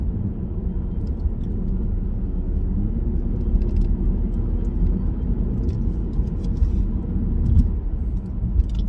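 A 2017 Cadillac ATS takes a sharp turn, heard from inside the cabin as a steady low engine and road rumble with faint clicks and light rattles above it, continuous throughout.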